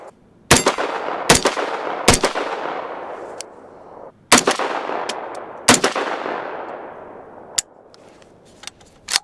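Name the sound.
Foxtrot Mike M-102 firearm firing shots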